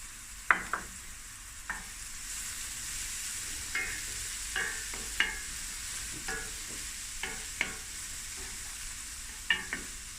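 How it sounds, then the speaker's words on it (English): Prawns frying in butter in a pan, a soft steady sizzle with intermittent scraping stirs and taps of the utensil at irregular intervals, fairly quiet and close. "I'm just going to let this fry for a few minutes"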